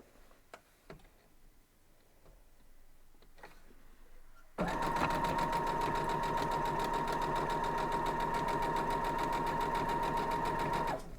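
Sewing machine stitching a 9-inch bear tracks quilt block runs steadily and loudly from about the midpoint to the end, after a quiet stretch with faint handling sounds.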